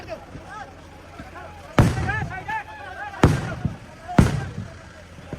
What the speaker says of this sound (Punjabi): ਲਗਾਤਾਰ ਜਿਹੜੀ ਫਾਇਰਿੰਗ ਹੋ ਰਹੀ ਹੈ ਲਗਾਤਾਰ ਫਾਇਰਿੰਗ